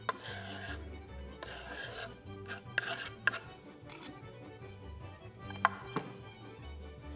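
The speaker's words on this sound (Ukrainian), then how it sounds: "трішки докришити нам цибульки" A knife chops onion on a board in a home kitchen while potatoes are prepared, brief rasping cuts and a few sharp taps coming in irregular bursts over quiet background hum.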